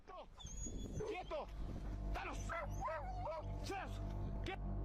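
Dogs bark repeatedly during a late-night walk, sharp yips and barks in quick bursts close by over a steady low hum, with a voice talking.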